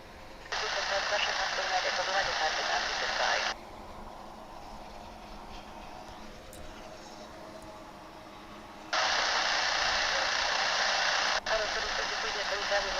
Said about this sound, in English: Can you hear that little propeller plane spinning around?